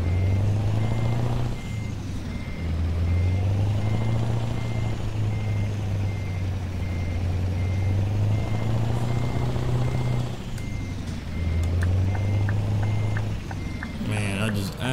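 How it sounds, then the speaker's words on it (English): An old Volvo truck engine in Euro Truck Simulator 2 drones steadily with low rumbling tones, while a repeating high reversing beep sounds throughout and briefly quickens near the end. "just absolutely love the sound of this truck"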